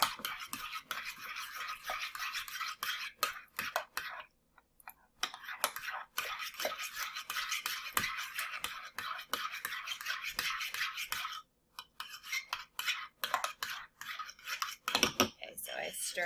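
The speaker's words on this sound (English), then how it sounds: "I am gonna stir these together." Pumpkin pie filling and pudding stirred together in a cup, giving a steady close scraping and rubbing of a utensil against the cup's sides with a few brief pauses.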